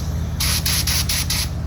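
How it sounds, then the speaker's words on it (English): A paint spray gun is test-fired away from a vehicle panel in short bursts. Five quick, loud hisses of air and paint come close together, separated by brief gaps, over a low steady hum. "spray your gun away from the panel first."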